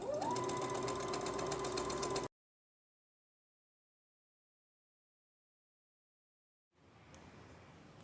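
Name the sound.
sewing machine stitching fabric to lining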